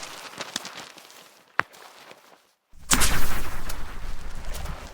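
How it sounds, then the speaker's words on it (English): A snapping shrimp claw, sharp isolated cracks over a faint crackling background, one loud snap early, then a brief silence before a dense, louder burst of crackling pops. "The shrimp's claw snaps with such incredible speed."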